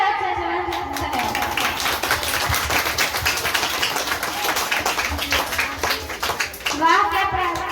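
Dense clapping from an audience at a children's coaching centre Republic Day celebration, greeting a child's patriotic speech; steady, fairly loud applause throughout, with some children's voices mixed in.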